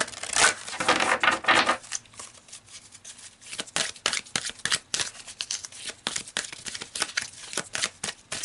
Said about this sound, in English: let's pull a couple more cards to wrap this up